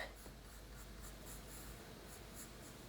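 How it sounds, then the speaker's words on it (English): A pencil sketches lightly on paper while a fish is being drawn, giving a steady, soft scratchy rustle that continues evenly throughout without any talking. "So I'm going to sketch lightly with my pencil."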